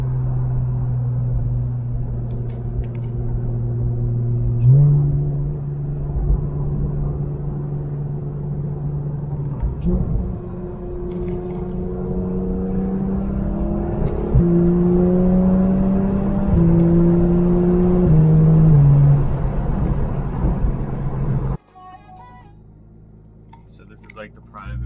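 A Porsche GT3 RS engine idles with a steady low rumble, then blips and revs several times, pitch climbing and falling in short surges, loud and close before it cuts off abruptly.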